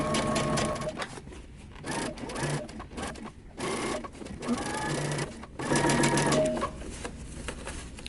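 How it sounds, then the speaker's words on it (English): Sewing machine back stitching and running seams on a pair of pants, in bursts of stitching separated by short pauses, with intermittent handling noise and some background speech. "we're going to back stitch and open and sew as you go along"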